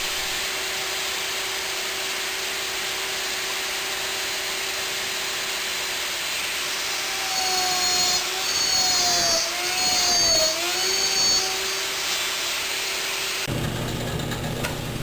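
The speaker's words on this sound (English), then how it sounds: "This gives me lots of opportunities to use my homemade slot mortising machine." A homemade slot mortising machine cuts mortises into wooden rails for a box, its motor whining steadily, dipping and wavering under load midway, then cutting off abruptly near the end.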